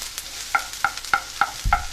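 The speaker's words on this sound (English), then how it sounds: "So just give these onions and garlic and chili just a little bit of a quick saute" Onions, garlic and chili get a quick sauté in a pan: five evenly spaced metallic spatula clinks ring out over a faint background sizzle, with a duller knock at the very end.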